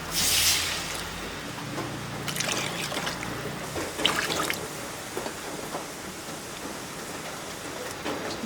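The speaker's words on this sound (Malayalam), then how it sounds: "മസാലയായിട്ടെല്ലാം മൂത്ത് വന്നിട്ടുണ്ട് നമുക്ക് വെള്ളം ഒഴിച്ചു കൊടുക്കാം" Water pours and trickles steadily into a pan of fish curry masala, with brief splashy bursts and light clatter, close by and fairly loud, no voices.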